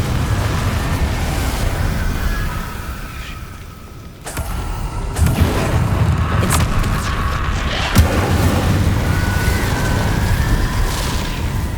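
Fire and explosion spells, Incendio and Confringo, cast in the Hogwarts Legacy video game against Inferi, heard as loud booming blasts over a dense, roaring game backdrop, with sharp bursts near the four-, five- and eight-second marks.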